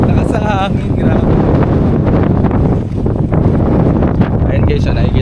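Steady loud gusts of strong sea wind batter the microphone near a pier, a dense unbroken roar with a faint voice mixed in.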